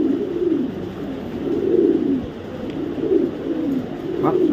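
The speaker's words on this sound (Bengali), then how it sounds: "হোয়াইট রেসার, একটা ফিমেল কবুতর, অরিজিনাল বিদেশি ব্লাড লাইনের" Female white racer pigeons of imported bloodline cooing softly, close by, in repeated rolling coos with a steady low murmur behind them.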